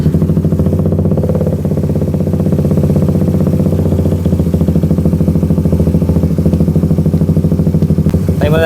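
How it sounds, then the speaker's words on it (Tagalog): A Suzuki GSX 150 motorcycle engine idles steadily and loudly with the coolant cap off, a continuous low rumbling putter with a fast, even rhythm and no talking. "paandarin nyo yung makina nang hindi nakalagay yung takip"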